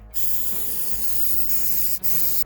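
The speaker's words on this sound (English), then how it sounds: "So I'll begin by spraying one coat." Spray adhesive hisses steadily from an aerosol can onto a sagging car roof-lining inside the vehicle, two close sustained bursts broken by a short pause.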